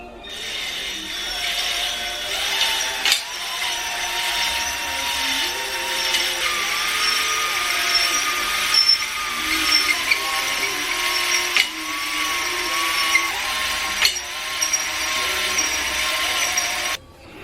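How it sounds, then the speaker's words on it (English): A drill-driven hone scours the engine cylinders of a Honda B20 engine from an RD1 CR-V, giving a continuous grinding whine that rises and falls across strokes, close by and loud throughout. "let's hone these cylinders out"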